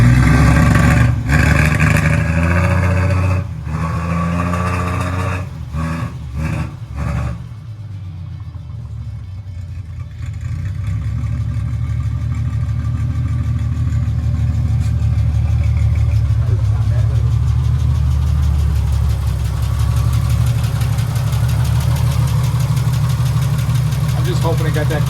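A 1973 Triumph TR6 engine idling with a steady low rumble, while people talk over it in the opening seconds.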